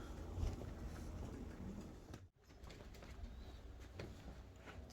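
Pigeons coo softly in open air among a mixed flock of flying birds, the calls faint and distant over a steady outdoor background, with a brief dropout midway.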